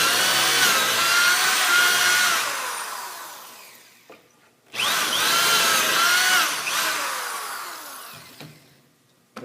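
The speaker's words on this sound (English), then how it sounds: "And we'll drill the hole in the back side." A power drill bores pocket holes through a jig into the back of a wooden face frame rail in two loud, whirring bursts, each winding down and trailing off between passes.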